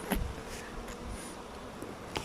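Bees buzz steadily at the front of a bee house, a faint, even hum with a few soft knocks and taps scattered through it and no voices.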